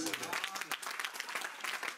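Applause from a church congregation during a pastor's sermon, a busy patter of many hands clapping at moderate volume with voices mixed in.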